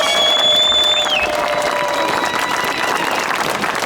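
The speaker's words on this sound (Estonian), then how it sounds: "tehke üks aplaus selle eest endale" A crowd at a street demonstration in Tartu, Estonia, claps and cheers in sustained applause lasting several seconds, with a faint whistle-like tone at the start.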